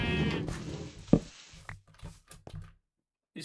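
Sheep bleating in a Minecraft-style survival game, several bleats and farm-animal calls layered together, loud at first and then thinning into short scattered cries before a brief silence.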